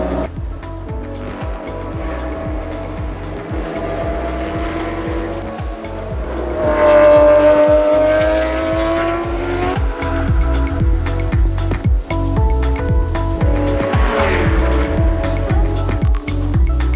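Race car engine noise and tire squeal on the Dijon circuit as a car with brake problems skids, loud and continuous with screeching rising in the middle and engine roar throughout.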